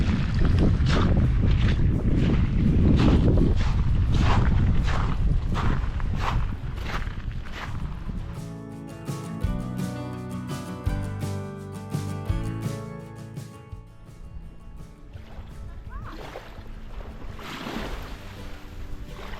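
Breezy wind gusting across a microphone on a Cornish seafront, a steady low roar with buffeting that eases partway through, while faint water and boat-like sounds sit beneath it and no one speaks.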